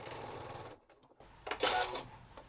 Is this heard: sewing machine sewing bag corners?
yes